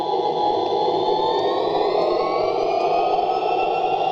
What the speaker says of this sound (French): Si vous voulez regarder les moteurs, ce moteur-là, il va changer pendant le décollage.